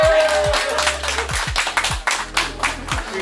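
Clapping from a small group celebrating an employee of the month at a workplace, close and slightly uneven, with a few low thuds and faint voices beneath.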